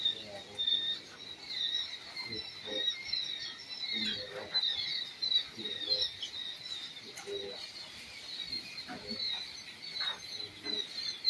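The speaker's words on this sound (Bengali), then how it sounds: "এগুলা কোয়েল পাখির অরিজিনাল জাপানি জাতের বাচ্চা" Dense, continuous high-pitched chirping from many Japanese quail chicks, steady and busy throughout with no pauses.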